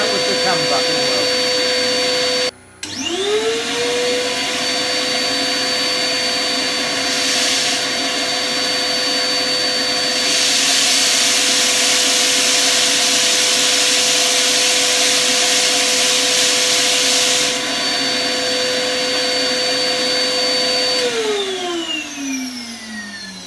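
A Camvac CGV-336-4 twin-motor vacuum cleaner runs at a loud, steady high-pitched whine, briefly cutting out and spinning back up early on, then winding down as it is switched off near the end.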